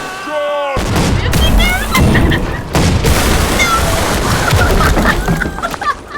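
Musket gunfire and cannon booms ring out in a Holdfast naval battle aboard boats, loud overlapping volleys and blasts crowding the whole stretch amid battle noise.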